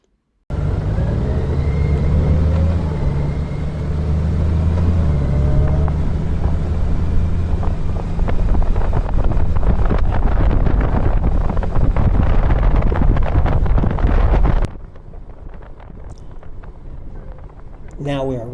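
A steady roar of motorcycle engines and wind buffeting rushes past on a road into Greenville, Texas for a long stretch, then suddenly drops to a quieter rumble.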